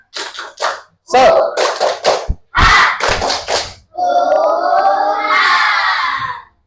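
A class of students performs a rhythmic spirit clap, bursts of clapping in a patterned beat with children chanting and shouting along, ending in a long loud collective cheer.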